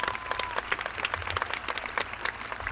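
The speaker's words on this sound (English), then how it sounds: "Round of applause." Graduation audience applause at a high school ceremony, brisk scattered clapping from a crowd, moderately distant and fairly quiet, continuing for a few seconds.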